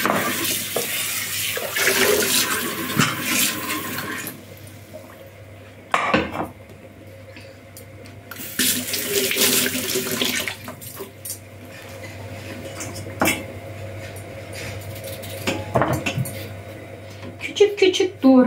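Tap water running in bursts while food, likely potatoes, is rinsed at a kitchen sink, a hissing splash that starts and stops, with dishes clinking nearby and someone speaking over it.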